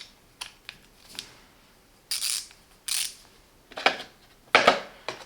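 Metal sockets and an extension snap onto an ETOOLAB TW26N Pro 72-tooth bike torque wrench with a button-release ratchet: a series of sharp, close clicks and clacks in separate bursts over a quiet background, with no voices.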